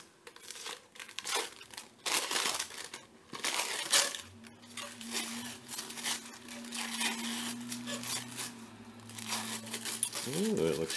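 Glued rocket motor tube for a North Coast Rocketry SA-14 Archer being unwrapped, with close crinkling and crushing of wrapping in bursts over the first few seconds, then softer handling noises under a steady hum.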